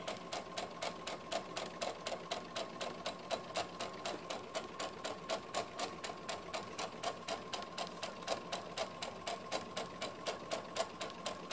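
A sewing machine stitches a skirt to a bodice, humming with a fast, even mechanical rattle that runs steadily and softly throughout, with no talking.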